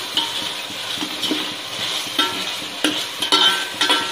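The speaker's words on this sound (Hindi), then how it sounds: "देखिए हमारे टमाटर बहुत अच्छी तरीके से पक रहे हैं।" Tomatoes for a chicken curry cook in a pan while being stirred, producing a loud close sizzle broken by rhythmic spoon scrapes and clinks against the metal.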